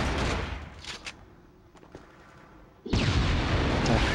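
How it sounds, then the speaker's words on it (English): Gunfire and explosions in the 2004 PS2 shooter Killzone: loud broadband bursts of shooting, a quieter lull with a few isolated shots, then a sudden heavy roar of sustained fire that holds to the end. "somebody's shooting me"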